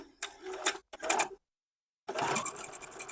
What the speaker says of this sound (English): Then we get to start sewing these rows together.